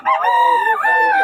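A gamefowl rooster up for sale crows once, close and loud, a single strained cock-a-doodle-doo lasting about a second.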